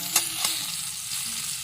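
Eggplant slices sizzle steadily in hot oil in a pan, with a couple of sharp stirring scrapes standing out early in the short stretch of frying.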